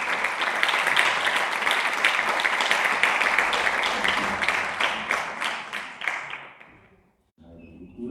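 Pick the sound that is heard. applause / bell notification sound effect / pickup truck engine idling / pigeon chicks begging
applause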